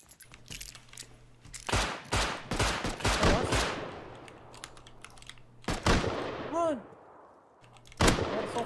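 Rapid bursts of gunfire in a base-raiding survival video game, several loud volleys over a steady engine-like drone, with brief gaps and a final sharp burst near the end.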